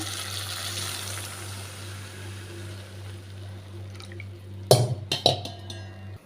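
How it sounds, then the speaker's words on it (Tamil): A low steady hum, then tamarind water is poured into a pot of dried anchovy curry with a sudden splash and a few short sloshes. "இப்போ வந்து புளி தண்ணியை சேர்த்துக்கிறேன்"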